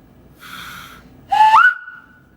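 A person whistles in two short bursts, the second louder and rising into a sustained tone that holds steady before fading, heard close with no talking over it.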